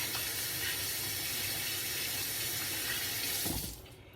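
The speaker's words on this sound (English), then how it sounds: "Double wash your hands" Tap water runs steadily onto hands being washed in a kitchen sink, a close, even rush that stops abruptly near the end.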